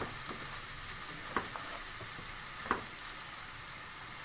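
A masala spice mixture fries in about half a cup of oil for an egg curry, a faint, even sizzle with two brief clinks of stirring and no talk.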